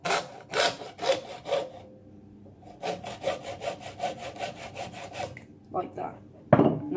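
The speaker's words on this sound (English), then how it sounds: "then you need to get your saw and saw the plastic bit off" A hand saw cuts the plastic end off a shotgun cartridge clamped in a vise, making close, raspy back-and-forth strokes in two bursts with a short pause between them, followed by a couple of knocks.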